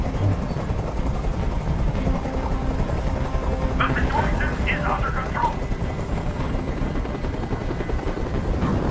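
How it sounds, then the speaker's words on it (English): A helicopter hovers close by, its steady loud rotor drone filling the whole stretch while someone speaks briefly over it. "Tell that helicopter to get out of here."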